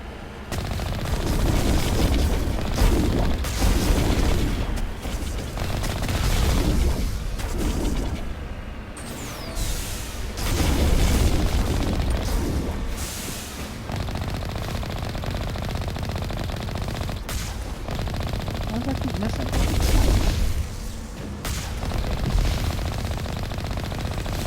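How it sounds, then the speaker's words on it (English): Continuous rapid gunfire and explosive blasts in the Mass Effect video game, including rocket launcher fire, dense and loud throughout with crashing booms layered over sustained automatic shooting. "the rocket launcher's being a little weird"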